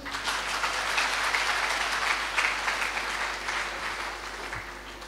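Applause from an audience at a Hindi Day poetry recital held at an institute, a steady wash of many hands clapping that holds at even loudness throughout.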